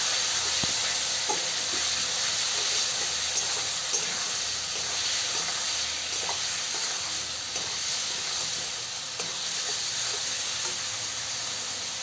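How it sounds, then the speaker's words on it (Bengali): Spices sauté in a hot pan for a rohu fish curry with vegetables, giving a steady, close, continuous sizzle and hiss with small crackles and occasional stirring, and no talking. "আজকে সামান্য একটু কষিয়ে নিলাম।"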